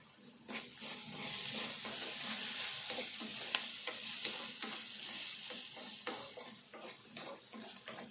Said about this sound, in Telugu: ఉల్లిపాయ పచ్చిమిర్చి కూడా మంచిగా వేగాలి